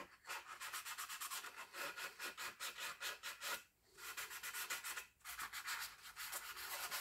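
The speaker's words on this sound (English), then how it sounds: "just kind of scuffing it up. I'm not out to sand anything away" A surface is scuffed up by hand sanding, giving rapid, rhythmic back-and-forth rasping strokes that run close and steady, with two brief pauses between bursts.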